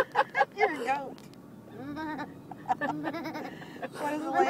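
A person imitating a goat's bleat, producing several short wavering bleats up front followed by longer quavering cries, fairly close and loud, with a child-directed animal-sound game around it.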